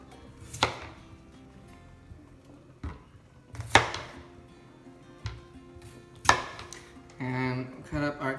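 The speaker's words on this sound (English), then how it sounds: "Now we cut the carrots up." Knife chopping carrots on a cutting board while preparing an Instant Pot roast: a few separate sharp cuts spaced apart, then a quicker burst of chops at the end, close and fairly loud with no talking.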